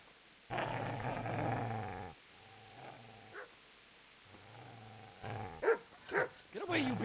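A dog growls and snarls as it goes for a man, with deep, rough bursts in the opening seconds. Short yelps and agitated barks follow near the end, and a voice shouts over the commotion.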